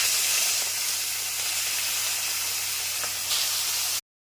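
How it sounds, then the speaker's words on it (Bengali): Pieces of rohu fish fry in hot white oil in a kadai, producing a loud, close, steady hissing sizzle that runs unbroken for several seconds before stopping abruptly. "এবার মাছ ভেজে নেব।"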